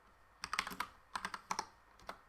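Quick bursts of typing on a computer keyboard while entering Linux terminal commands, with two clusters of rapid key clicks and a final single tap, near and fairly quiet with no talking.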